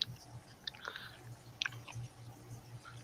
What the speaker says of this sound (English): your chewing is exceptionally loud